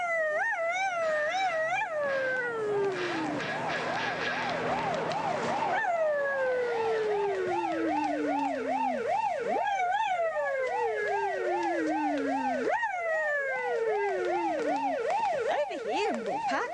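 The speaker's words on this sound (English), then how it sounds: "Siren's ready." A wailing toy-car siren on a children's TV show, repeated rising and falling sweeps for many seconds, loud and steady with a faint howling quality.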